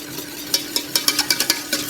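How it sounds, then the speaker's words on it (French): A spoon or whisk works a sugar and pectin mixture into a warm cherry preparation in a pan, producing quick, close scraping strokes in a brisk repeating rhythm that grows busier toward the end. "nous allons pouvoir incorporer le mélange sucre-pectine"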